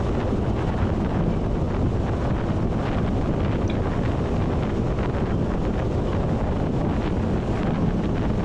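Roaring wind buffeting the microphone on a Suzuki Burgman motorcycle ridden faster along an open road, a loud, constant rush with no talking.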